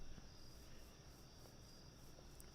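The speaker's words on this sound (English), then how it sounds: "can hear the cicadas in the background." Cicadas in Nashville, Tennessee keep up a steady, high, whining drone in the background, faint but unbroken throughout, with no voices.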